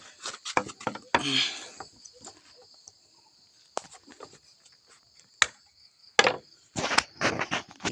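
Sharp, irregular prying and cracking of a kapok tree's bark and hollow trunk while opening a sago palm weevil grub nest, a run of close, dry woody snaps and knocks separated by quiet gaps, outdoors in a rural Isan setting.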